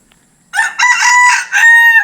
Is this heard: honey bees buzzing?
no